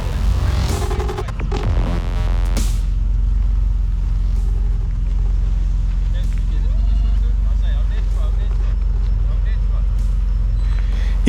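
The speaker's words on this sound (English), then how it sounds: "You're going to see this Pajero dropping down, rear wheels lifting" A Mitsubishi Pajero 4x4 engine drones steadily as the vehicle eases down a deep drop-off at a mud festival, a constant low rumble with brief clattering knocks near the start.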